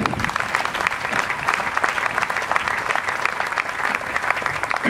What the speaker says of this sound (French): Est-ce qu'on peut applaudir cette communauté?